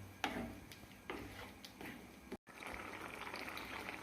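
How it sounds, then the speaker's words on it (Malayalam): Egg curry with ground coconut bubbling in a pan, a close, quiet mix of soft popping bubbles and light ticking, with a brief dropout midway, no voices. "ഇതൊന്ന് തിളക്കട്ടെ"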